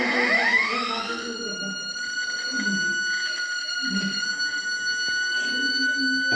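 Photodiode fire alarm circuit sounding as a flame is shown to it: a steady high electronic alarm tone holds throughout, loud and continuous, with some low background noise.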